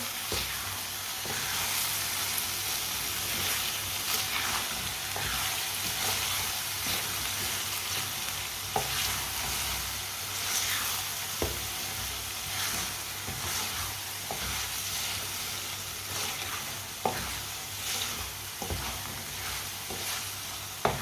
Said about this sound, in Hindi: अब अच्छी तरह मिक्स कर लेंगे।